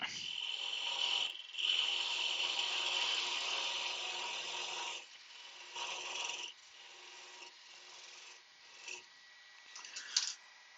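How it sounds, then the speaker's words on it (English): Sandpaper rubbing over a small wooden salt and pepper pot, a steady close rasping that runs loud for about five seconds, then continues in shorter, softer strokes with brief pauses and a final scrape. "Give it a wee sand."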